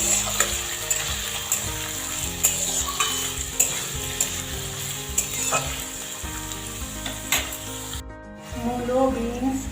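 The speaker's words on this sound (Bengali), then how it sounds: "খুব ভালো করে একটু ভেজে নেবে" Steady sizzling of carrots, radish and beans frying in a pan, with the scrape and clatter of stirring throughout and a brief pause near the end.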